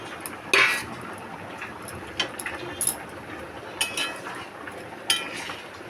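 Cumin powder going into a thin hilsa fish curry, then a spoon clinking and scraping against the metal pot in several sharp, separate knocks over a quiet background.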